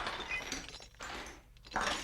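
Seized bootleg liquor shipments are smashed, giving a dense, noisy crash of shattering and breaking, then a fresh burst of breakage near the end.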